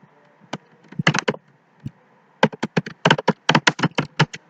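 Code being typed on a computer keyboard: quick irregular bursts of close, crisp key clicks separated by short pauses, with a faint background hum.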